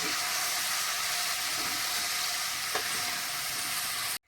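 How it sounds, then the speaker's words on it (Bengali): Vegetables with cumin powder stirred in a hot pan give a dense, steady sizzle and hiss, with faint scraping of the stirring, close and continuous until it cuts off abruptly. "এবার আমি সবকিছুকে একসাথে মিশিয়ে নিচ্ছি।"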